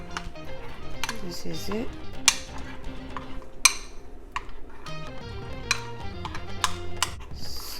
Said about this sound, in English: I'm gonna go ahead and put my peanut butter in there, and then just go ahead and stir this up